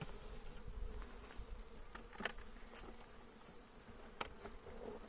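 Bees buzz in a constant low drone close by at a hive during end-of-season beekeeping work, with faint taps and small knocks scattered over the hum.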